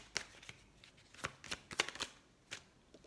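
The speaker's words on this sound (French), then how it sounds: "Il faut que je reprenne une carte de l'oracle de la triade." Oracle cards being drawn and shuffled by hand, a quiet series of crisp flicking snaps and papery riffles at irregular intervals, close and soft.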